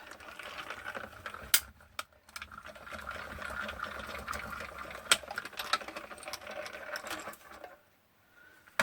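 A manual die-cutting machine presses paper and dies for a shaker card, giving a grinding, crackling mechanical rumble with sharp clicks that stops abruptly near the end, with no one speaking.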